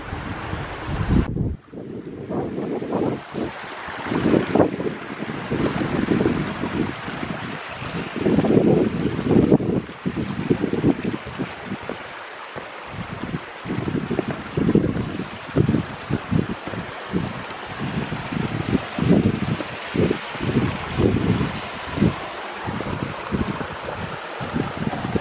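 A creek runs along the Dead Horse Falls Trail near Descanso, California, its water rushing continuously for the whole stretch, loud and close, with heavy wind buffeting the microphone on top and no talking.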